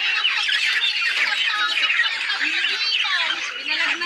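Many chickens squawk and cackle together while being loaded at harvest, a dense, continuous, close-up din of agitated birds.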